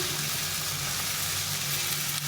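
Ground paste of red chilli, cumin, coriander and ginger frying in hot oil, producing a dense, even, hissing sizzle throughout with a low steady hum beneath, close and constant.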